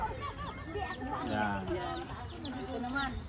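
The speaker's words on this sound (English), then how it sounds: "And there's a baby chicken right there." Chickens in a rural village in Barangay Bugtong, Samar, Philippines, with a baby chick among them; clucking and chirping calls rise and fall over steady outdoor ambience while people talk nearby.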